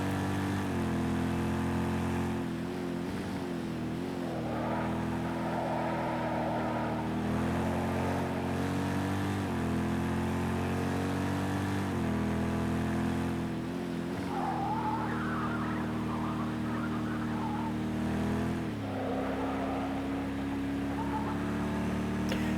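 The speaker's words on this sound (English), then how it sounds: "let's just give a listen to the nice V8 Corvette C7R" A V8 Corvette C7R race car in the video game Project Cars 2 at Brno, its engine roaring loud and close, revs rising and falling through gear shifts, with bursts of tire squeal in corners.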